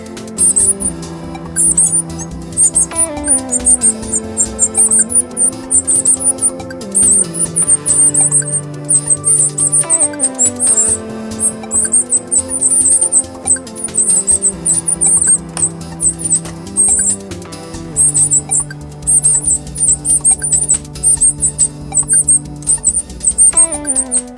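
Hungry robin chicks beg noisily while being fed, a dense, continuous chorus of high thin cheeps running throughout, with lower tonal sounds layered underneath.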